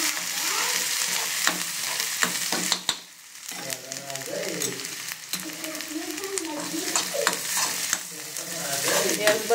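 Green chillies hit very hot oil in a home kitchen pan, giving a steady broadband sizzle with scattered sharp crackles and pops. There is a brief dip partway through, after which the frying noise returns and builds again.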